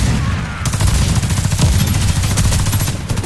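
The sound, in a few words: grenade and gunfire in video game Warface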